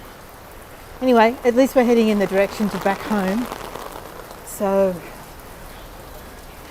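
Rain falls in a steady, even hiss at an outdoor Christmas market while a person speaks briefly over it, then the rainfall continues on its own.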